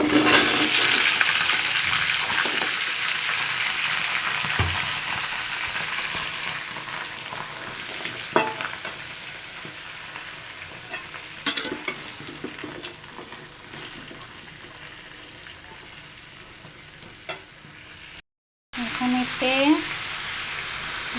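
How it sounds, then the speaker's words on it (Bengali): Chopped, washed bottle gourd frying in a pan, a loud sizzle at first that gradually fades, with scattered stirring knocks and scrapes, a brief cut near the end, and a voice at the close. "এখন এতে কেটে ধুয়ে রাখা লাউগুলো দিয়ে দিব"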